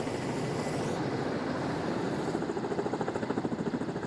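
A rescue helicopter descends into a narrow space on a rocky mountain ridge, its steady rotor and engine drone filling the air and its blade thumps pulsing more clearly as it draws closer.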